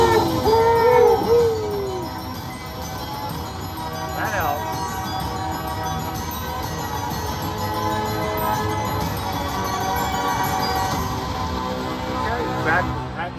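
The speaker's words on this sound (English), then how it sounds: "Let me hear those bells going off." Chiming bells and tinkling jingles from a fairy-themed slot machine game, bright repeated ringing over a busy background of game music, with someone talking over it throughout.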